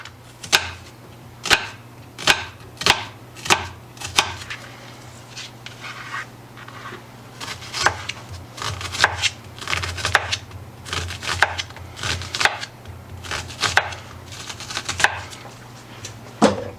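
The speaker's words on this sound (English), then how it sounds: "just chop it all up into fine, fine pieces" A knife chops food into fine pieces on a cutting board for a meatball stew, giving crisp, close thuds that start in a steady rhythm and then break into faster, irregular bursts of cuts.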